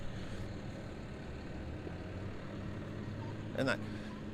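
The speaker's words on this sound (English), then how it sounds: "Now we have another tractor coming up" A tractor engine rumbles low and steady as it rolls past in the Niagara-on-the-Lake Christmas tractor parade, with outdoor crowd noise around it and a brief louder burst near the end.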